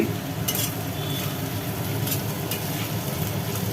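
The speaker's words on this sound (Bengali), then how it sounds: "আলু পেঁয়াজ একসঙ্গে দিয়ে একটু আগে পরে দিয়ে ভাজি ভাজি হচ্ছে" Potatoes and onions fry together in a pan with a steady, soft sizzle and a few brief stirring scrapes, heard close and moderately quiet throughout.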